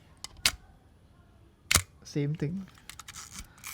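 A Zenit B M42 Russian film SLR with a suspected shutter defect fires with two sharp mechanical clicks about a second apart, then someone speaks briefly, followed by softer handling noise.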